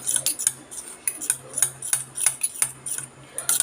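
Spoon stirring a sugar and lemon juice mixture in a small bowl, giving repeated light metallic clinks and taps in an irregular rhythm, close by and alone with no voices.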